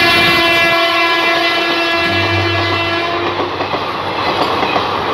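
An Indian Railways express hauled by a WAP-4 electric locomotive passes on broad gauge track near Indore, a loud sustained horn blast over rumbling, clattering wheels as the train goes by.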